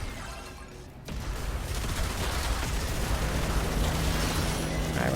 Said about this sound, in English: Don't walk into any explosions.